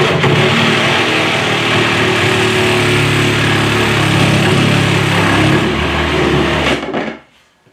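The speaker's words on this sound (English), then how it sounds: "I'll have to get my reciprocating saw" A reciprocating saw cuts off the ends of a sled, a loud, steady buzzing roar that runs close and continuous for several seconds before stopping abruptly near the end.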